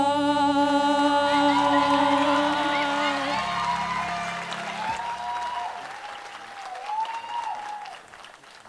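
Enthusiastic applause and cheering from a school audience at a high school Black History Month assembly, dense clapping that follows the final sustained notes of a song, with scattered whoops and crowd noise gradually thinning out.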